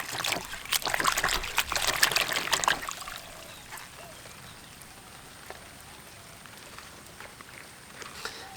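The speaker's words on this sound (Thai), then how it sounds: "จากนั้นเราก็ล้างน้ำครับ" A small Caladium offshoot is washed with water, giving a close trickling and splashing with scattered drips that stop after a few seconds, leaving quiet background hiss.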